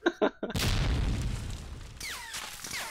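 A grenade detonates in the multiplayer shooter Medal of Honor: Allied Assault, a loud booming blast followed by a rumbling decay, preceded by a couple of short thumps and followed by faint whistling game sounds.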